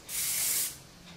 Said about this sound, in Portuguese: com o spray.